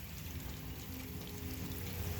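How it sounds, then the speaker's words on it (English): Rain falls outdoors on a morning, a steady, dense hiss and patter that holds evenly throughout at moderate level with no voices. "let you listen to the rain and the train"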